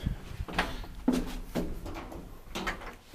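Inner doors of an old Valmet Schlieren elevator in a Jyväskylä apartment staircase sliding and clunking, several faint mechanical knocks and rumbles up close at low level.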